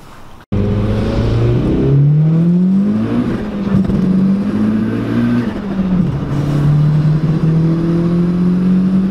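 Tuned VW Lupo small car with a 1.8T engine and about 400 hp accelerating hard, its loud engine note rising in pitch through several gear changes, close and steady with no talking.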